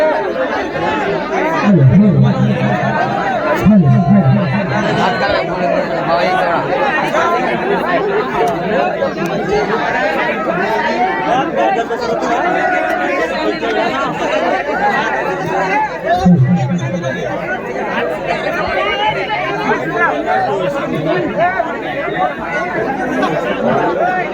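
A large crowd chatters steadily throughout a wedding celebration, a loud, dense babble of many voices with occasional louder calls rising above the hubbub.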